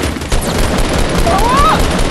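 Rapid bursts of gunfire in the Fortnite battle royale video game crackle loudly and continuously through the game mix, with a faint rising whistle partway through.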